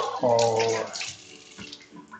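Tap water runs over green beans being rinsed in a kitchen, a short close splashing gush that eases off, with a brief voice at the start.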